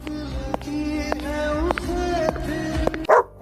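Small pet dog barking in short repeated yips and bow-wows, close and fairly loud against light background noise, ending with a brief scuffle.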